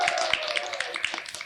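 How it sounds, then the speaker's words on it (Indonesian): Audience applause at a school talk show called Lentera Edukasi, about a healthy, drug-free young generation: a dense crowd claps steadily with sharp overlapping hand claps throughout. "Boleh dong tepuk tangannya?"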